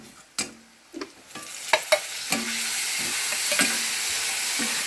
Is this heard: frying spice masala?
yes